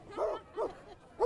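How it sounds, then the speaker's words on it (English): Dog at a street parade giving three short, quiet yipping barks in a quick irregular burst, somewhat distant. "I think the dog's talking to us"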